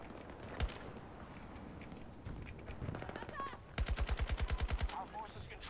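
Automatic weapon fire in the shooter game Battlefield 2042, a few scattered shots followed by a rapid, evenly spaced burst of about a dozen rounds, loud and close amid game noise and an in-game voice.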